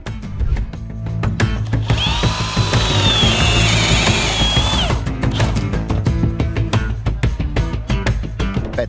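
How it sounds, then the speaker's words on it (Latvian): A power drill bores into a wooden bar holder at a 15-degree angle for a wooden gym wall, the motor whining loudly for several seconds, then giving way to a rapid series of sharp clicking and ratcheting taps. "Stābu turētāju urbjam 15 grādu leņķī."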